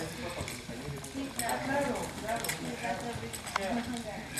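During groundwork at a Tennessee Walking Horse clinic, a horse's hooves clip-clop steadily in the background, moderately distant, under continuous talk from a man nearby.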